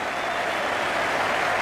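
Applause and cheering from a record crowd of over 87,000 at the Melbourne Cricket Ground during the 1992 World Cup final, Pakistan against England, a dense, steady roar filling the whole stadium without letup.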